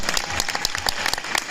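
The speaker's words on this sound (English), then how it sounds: "First, let's give him a big round of applause for all that." Audience applause at a horror fan convention panel, a dense steady patter of many hands clapping close by, filling the whole moment without talk.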